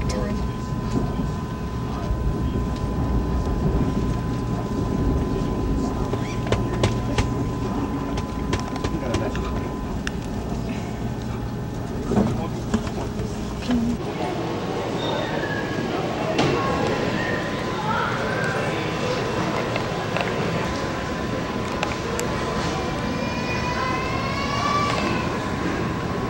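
Regional service train 88 running, a steady low rumble with rail noise throughout, faint squeals and higher tones toward the end, mixed with background voices.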